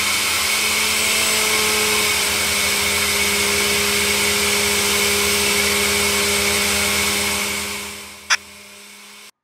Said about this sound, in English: Then I'm just going to blend a little bit more.